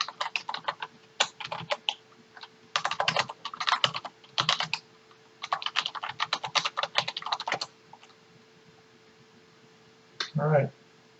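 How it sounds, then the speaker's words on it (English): Typing on a computer keyboard in irregular bursts of quick, close key clicks separated by short pauses, ending with a brief spoken phrase. "Type in HTTPS this time."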